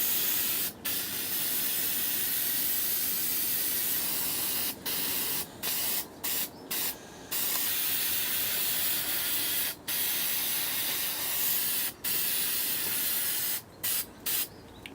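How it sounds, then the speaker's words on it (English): Cheap black spray paint hissing steadily from a can onto poster board in long continuous bursts, broken by short pauses, close and fairly loud. "and then just start spraying."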